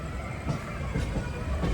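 Train rolling into Thiruvananthapuram Central station about ten minutes late, a steady low rumble of wheels and carriages with faint rail clatter throughout, fairly close and continuous.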